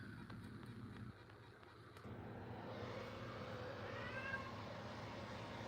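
A house cat meows softly a few times, faint and somewhat close, over a steady background hum with a few light knocks early on.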